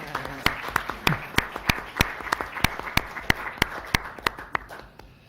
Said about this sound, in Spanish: Un aplauso a Magdalena.